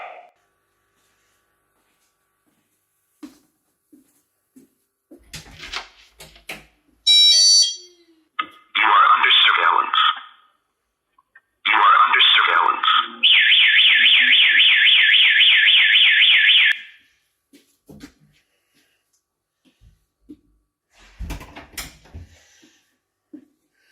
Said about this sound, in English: so the Airshield wireless siren